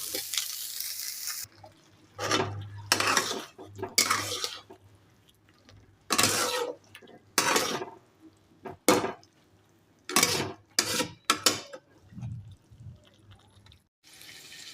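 Potatoes with spring onions fry in a pan, giving bursts of sizzling and stirring scrapes that start and stop, with quiet gaps between them.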